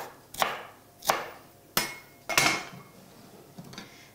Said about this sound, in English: Roughly chop.